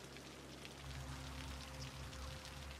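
Rain in the city-building game Cities Skylines, a soft, even hiss of falling drops, faint and continuous throughout with a low steady hum beneath.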